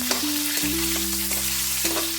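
Green and dried chillies fry in oil for a fish head and cabbage curry, a constant close sizzle with scraping stir sounds over a steady low hum, and no one speaking.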